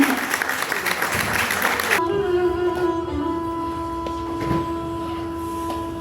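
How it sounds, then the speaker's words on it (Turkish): Dense audience applause at a poetry recital fills the first two seconds, then gives way to faint sustained tones and low room noise. "Alkışlarınızla lütfen"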